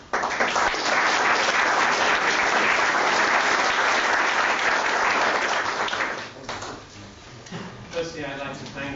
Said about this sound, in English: So, a warm applause for Simon Emmerson.